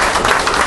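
Loud, dense applause from a crowd at a union assembly: a brief, close burst of many hands clapping at once, with no pauses.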